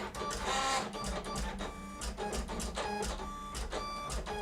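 A Silhouette Cameo 4 cutting machine slices cardstock for cardmaking, giving a steady mechanical whir with repeated short stepping bursts and rattles as the carriage moves, close and continuous throughout.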